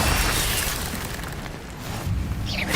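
Incendio fire spell cast in the Hogwarts Legacy video game on PS5, a loud sustained whooshing, roaring burst of flame filling nearly three seconds, swelling again toward the end, with no talking.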